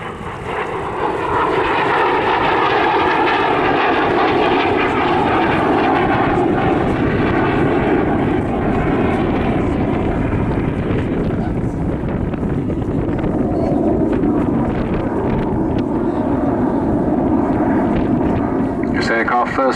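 A Saab J-29 Tunnan jet fighter, a Swedish Air Force type first flown in 1948, roars loudly and steadily past an airshow crowd at Southport, with wind buffeting the microphone and faint voices beneath.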